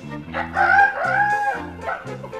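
A rooster crows once, a full, loud cock-a-doodle-doo with a rising, drawn-out call, close by and alone.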